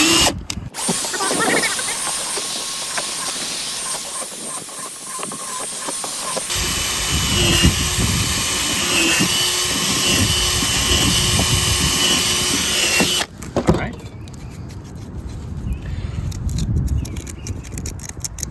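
A power drill with a 9/64 bit bores holes while building a DIY pond fountain pump, a loud close whine that changes pitch between bursts, with a brief pause before the drilling resumes.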